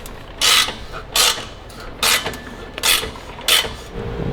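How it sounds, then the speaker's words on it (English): A tool chases bolt threads on a Ferrari engine, making five evenly spaced bursts of rasping, creaking metal scraping with quiet pauses between strokes. "now we gotta chase the threads"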